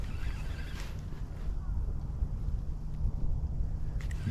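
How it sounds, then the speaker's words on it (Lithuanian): Wind rises over a lake during autumn perch fishing from a boat, a steady low rumble with gusty buffeting against the microphone, continuous and fairly loud, with a couple of faint knocks near the start and end. "Ir vėjas kyla."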